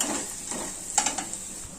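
Carrots frying in a pan for carrot chutney, a steady close sizzle with a few light scraping clinks of a spoon stirring partway through, no talk.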